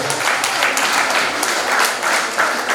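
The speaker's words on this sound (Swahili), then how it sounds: "Jipigie makofi kama umehudhuria baada ya siku ya leo." A church congregation in Mukuru kwa Reuben, Nairobi, breaks into loud, sustained applause, a dense close wash of many hands clapping with a faint murmur of voices underneath.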